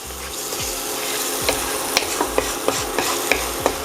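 Onions frying in a pan with salt and pepper being stirred in, a steady sizzle under repeated scraping strokes of a utensil, close and moderately loud, with no voices.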